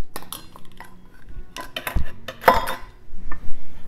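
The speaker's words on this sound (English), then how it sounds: "And then we're gonna add in the 1/2 cup of raisins and a 1/2 cup of pecans, and just fold those in." Raisins and pecans folded into pumpkin bread batter, with a few sharp clinks and scrapes of a utensil against a bowl and soft thick stirring, close and alone without talk.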